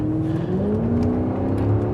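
2009 Mercedes-Benz CLS 63 AMG accelerating hard, a loud continuous engine roar with rising pitch, heard from inside the car with no talking.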